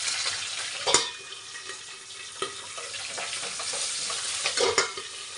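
Green chillies, curry leaves and ginger splutter and sizzle in hot oil during tempering for an onion gojju, with crackling pops and bursts over a steady frying hiss, no voices.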